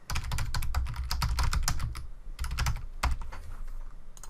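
Fingers type an email address on a computer keyboard, a close, quick run of crisp key clicks in uneven bursts, with a short pause midway before more taps.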